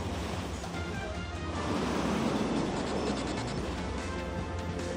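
Raging sea waves crash continuously onto the shore at San Felipe, Zambales, a loud, dense roar of surf with wind and no pauses.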